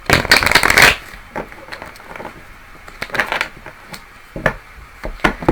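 Tarot cards being shuffled in crisp riffling bursts, a loud flurry at first and then shorter rustling shuffles, close by.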